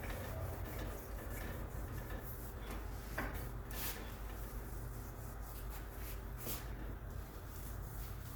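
A cloth rubs and wipes across a dirty interior front door, close and continuous, with a few brief scrapes and knocks standing out from the steady rubbing.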